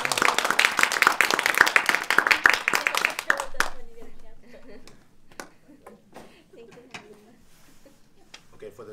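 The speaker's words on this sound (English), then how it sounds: "So we'll have a round of applause" A room full of people breaks into loud, dense applause that cuts off sharply after a few seconds, leaving scattered claps, shuffling and murmured talk.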